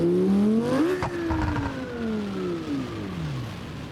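Lamborghini Gallardo in the BeamNG Drive racing game, its engine revving hard and climbing through gears with a sharp shift near the start, a loud steady whine continuing alone without talk.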